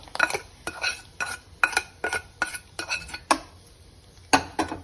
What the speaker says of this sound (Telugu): అన్నం ఉడికించేటప్పుడు ఇది ఇలా కలుపుకోవాలి